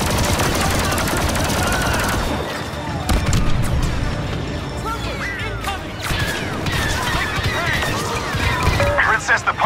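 Rapid blaster fire and explosive crashes in a Star Wars Battlefront II battle, a dense, loud, continuous barrage of shots with sweeping laser-like tones and impacts over a roaring backdrop.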